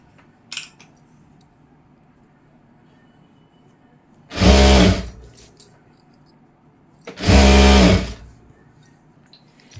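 A sewing machine stitches folded round-neck blouse cloth in two loud bursts of about a second each, separated by quiet handling noise and a faint click near the start.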